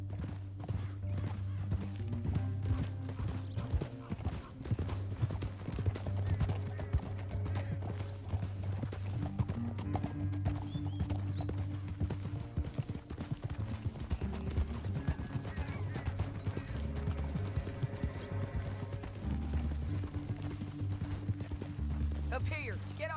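Horses' hooves clip-clop at a steady gallop in the video game Red Dead Redemption 2, running continuously at close range beneath a sustained musical bed, with a horse whinnying briefly and voices talking over it.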